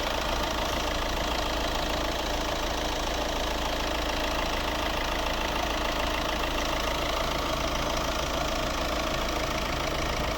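A 2015 Peugeot 3008 1.6 HDi diesel engine idles continuously with a rough, knocking rumble, close and unchanging throughout.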